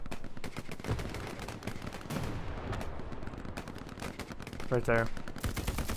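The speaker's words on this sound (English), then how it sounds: "artillery" Dense gunfire and explosive blasts fill a D-Day video game battle, rapid machine-gun bursts with heavy booming hits, and a voice briefly speaks over the din.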